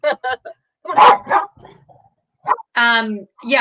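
Several dogs bark in short, loud bursts close by, mixed with people talking over and between the barks.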